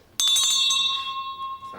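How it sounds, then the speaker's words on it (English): A church bell is rung once with a bright, loud clang, followed by a long ringing decay that slowly fades, close by and with no talk. "No one's interested in the bell."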